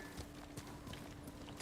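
Steady hoofbeats of a horse in Ghost of Tsushima clip-clop at a walking pace against a constant low background hum, with no voices.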